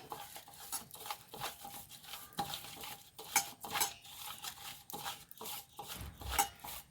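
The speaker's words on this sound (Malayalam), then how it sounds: "ഇതൊന്നും നമുക്ക് മിക്സ് ചെയ്തെടുക്കാം കേട്ടോ." A chili powder spice paste being mixed in a bowl: rapid, irregular clinks and scrapes of a spoon against the dish, close and fairly quiet, with no voices.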